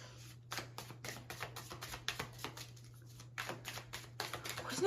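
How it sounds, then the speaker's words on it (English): Rapid, crisp flicking and riffling of tarot cards being shuffled in quick bursts, close by, over a low steady hum. "I'm shuffling again."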